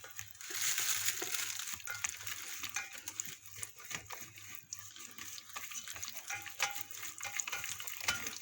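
A seasoning and flour mixture for breaded scallops is stirred and mashed by hand, producing soft, irregular squelching and scraping sounds at close range, fairly quiet throughout.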